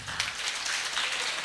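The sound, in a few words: audience clapping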